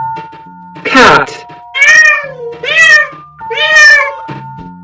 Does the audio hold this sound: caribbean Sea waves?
no